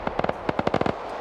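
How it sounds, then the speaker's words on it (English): A BTR armored vehicle fires its gun in a military video game convoy battle, a quick series of about a dozen sharp cracking shots in uneven bursts, moderately loud with no talk. "Got this BTR right here firing."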